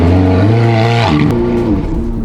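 A loud Ferrari 458 engine revs high and holds a roaring, throaty tone, then drops and climbs again, close and continuous.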